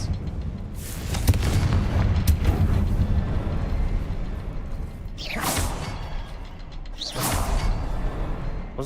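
Fire curses from the Confringo spell in Hogwarts Legacy: a long rumbling boom, then two sharp whooshing bursts a couple of seconds apart, each flaring brightly before fading into low, heavy rumble.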